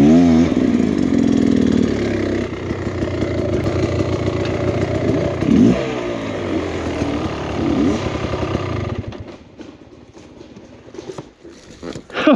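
A Beta XTrainer 300 enduro motorcycle is ridden on technical enduro terrain. Its engine is fairly close and revs and blips in uneven surges, then drops away sharply near the end, leaving quieter scuffing and ambient noise.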